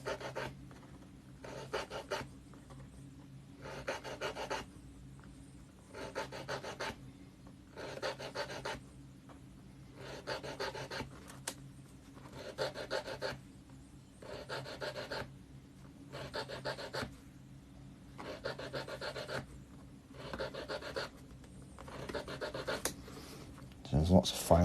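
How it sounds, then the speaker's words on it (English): A file rasps across the top stones of a dry stone wall beside a road, with steady, evenly spaced strokes repeating about a dozen times, close and fairly quiet. "So there's lots of filing to do here while I'm just filing these top stones"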